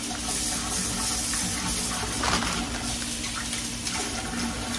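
Food being rinsed under a running kitchen tap: a steady, fairly loud gush of water pours without pause, with no voices.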